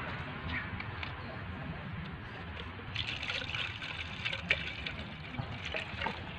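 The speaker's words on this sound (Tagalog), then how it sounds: "Ayun, lalagyan natin ng tubig." Water is poured from a container into a cut plastic bottle holding bougainvillea cuttings, a close, continuous trickling splash that grows brighter and fuller partway through, with no talking over it.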